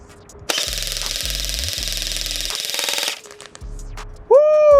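A KWA EVE-ICE Special Edition airsoft gun fires two loud, rapid full-auto bursts up close, the first long and the second short. A voice is briefly heard near the end.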